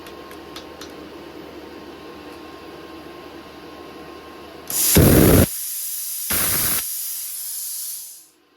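A Vector Welding PARIS 500 manual plasma cutter lets out two loud, harsh hissing blasts, the first longer than the second, over a steady background hum that fades as the hiss tails off.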